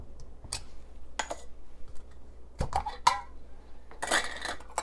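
A metal utensil scrapes and clinks against a pot while solidified fat is scooped off homemade chicken stock, giving scattered close taps and clatters over a low steady background hum with no talking.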